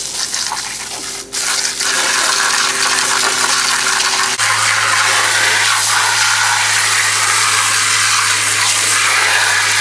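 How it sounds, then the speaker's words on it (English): A garden hose sprays water steadily onto a DE pool filter, a loud continuous gushing rush with a humming tone underneath that shifts in pitch partway through. "Now we'll just wash it down with a garden hose"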